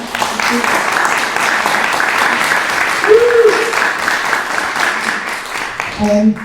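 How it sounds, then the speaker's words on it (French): An audience applauds after a panel at a conference on youth and mental health, sustained dense clapping for several seconds, with a brief voice near the end. "On peut les applaudir."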